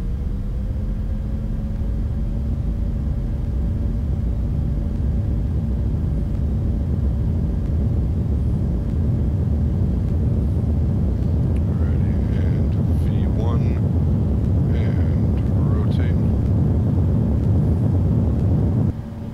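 Embraer E175 jet engines spooling up at takeoff throttle in X-Plane 10, a steady loud broadband roar with a rising whine that holds throughout, with a voice speaking over it.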